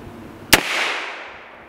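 A gunshot is fired into a rolled-up carpet outdoors. One sharp, loud crack is followed by a long, fading rumble of echo.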